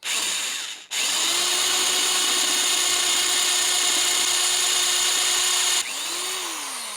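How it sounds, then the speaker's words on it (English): A Black & Decker power drill whines steadily at close range for several seconds, drilling out rusted jaw holes in a metal Wilton bullet vise, with a brief stop near the start and a slowing wind-down near the end. "I'm using a Black & Decker 711638 drill kit, 26 pieces."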